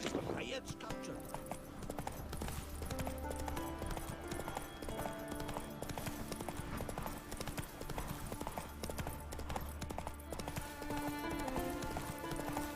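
Roach, the horse in Witcher 3, gallops with a rapid, rhythmic clip-clop of hooves that runs throughout, mixed with game music and a person talking over it.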